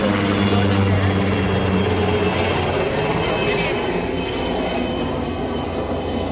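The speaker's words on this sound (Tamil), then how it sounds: "பார்த்தா ஹெலிகாப்டர் வருது." A helicopter flying overhead above a flower garden, a steady, loud mechanical drone filling the whole stretch, a rotor-like engine roar holding constant with a faint high whine above it.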